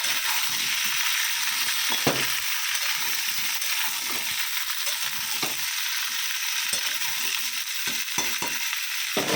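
Cumin and chili tempering spluttering in hot oil, a loud, continuous close-up sizzle with faint stirring scrapes throughout.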